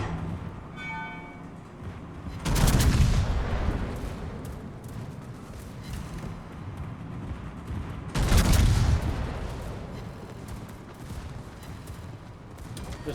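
Two heavy naval gun salvos boom in the World of Warships game, each a deep, loud blast followed by a long rumbling decay over a steady background hum of battle ambience.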